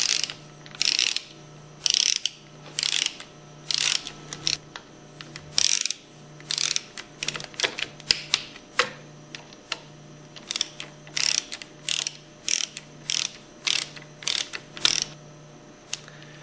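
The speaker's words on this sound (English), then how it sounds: "use your quarter inch Allen wrench and torque them between 100 and 110 inch pounds" A quarter-inch Allen wrench ratchets as pump side cover bolts on a Hypro 2400 Series Powerline Plus plunger pump are torqued, giving repeated close clicking bursts separated by short pauses.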